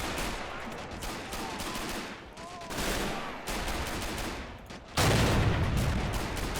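Continuous gunfire rattles through a Men of War battle during the Normandy D-Day landings of 1944: dense bursts of machine-gun and rifle fire, loud and unbroken, swelling into a heavier barrage near the end, with faint voices underneath.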